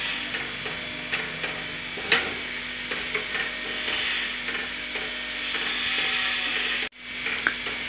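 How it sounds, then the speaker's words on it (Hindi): A spoon stirs creamy white sauce for pasta in a pan over a low gas flame, giving soft steady scraping and gentle sizzle with a few sharper clicks, close and continuous, with no voices. "अब इसे चलाते हुए पकाएंगे।"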